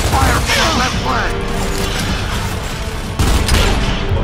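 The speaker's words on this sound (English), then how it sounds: "We're still under heavy fire from the left flank!" Heavy gunfire from the Gears of War 2 video game, dense and continuous with rapid bursts and booming impacts layered throughout, loud and close, with a sharp surge near the end.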